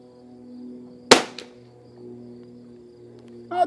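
A rifle fires a single sharp shot using RWS R50 .22 ammunition at a shooting range, a loud crack near the middle that trails off quickly over a low steady background hum.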